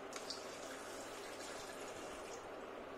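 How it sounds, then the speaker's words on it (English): Water pours steadily into a blender jar of soup ingredients, a soft continuous splashing trickle that stays faint and close, with no talk over it. "We'll add some water to this."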